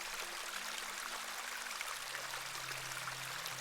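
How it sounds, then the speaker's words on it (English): A small beck in the video game The Excavation of Hob's Barrow flows with a soft, steady babble and trickle, quiet and unbroken throughout, with a faint low hum beneath it. "This is a lovely little beck."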